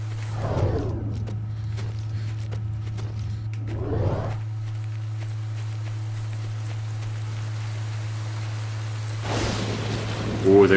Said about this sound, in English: there's that lightning strike I was looking for